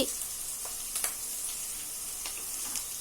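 Onions sauté in a pan on a stove set down on the floor, giving a steady, soft sizzle with a few faint crackles and ticks throughout and no talking.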